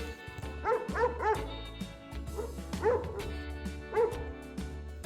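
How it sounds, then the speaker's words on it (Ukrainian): A puppy gives high, yappy barks and whimpers in short bursts, several quick yips then scattered single ones, fairly close, over low background noise. "Це маленьке цуценятко."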